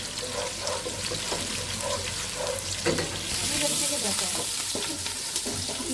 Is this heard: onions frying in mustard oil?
yes